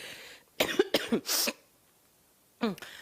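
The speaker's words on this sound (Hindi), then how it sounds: "अरे मुझे क्या हो गया, इतनी खांसी क्यों आ रही है?" A person coughs several times in quick, harsh bursts close up, pauses, then lets out one more cough.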